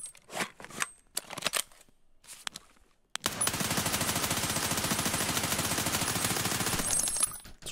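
P90 submachine gun fired in Escape From Tarkov: a few scattered shots and rustling at first, then a loud, sustained stream of rapid automatic fire lasting several seconds before cutting off.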